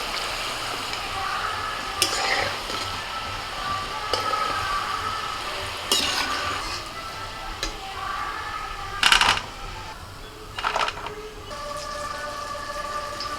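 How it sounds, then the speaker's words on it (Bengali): Palm fritters fry slowly in oil over low heat, giving a steady hiss of bubbling. A few sharp clinks of a utensil against the pan break through, and there is no talking. "এবার কিন্তু একদম হালকা আঁচেতে যে আস্তে আস্তে করে ভাজছি"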